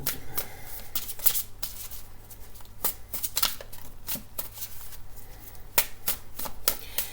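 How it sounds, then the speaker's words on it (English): Tarot cards are drawn and handled from a deck, giving quick, irregular papery riffles and snaps close by, with soft slides between them. "I'm just going to pull a card here from this deck"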